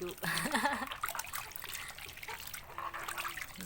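Shellfish are rinsed by hand in water, splashing and trickling in short bursts up close, with a voice talking over part of it.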